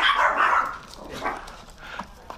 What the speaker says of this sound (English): You bark at that guy.